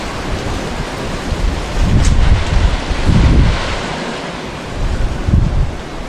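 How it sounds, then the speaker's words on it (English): Wind from an approaching storm roars steadily outside a home garage, swelling in several loud gusts that buffet the microphone. "We got a big storm coming in too."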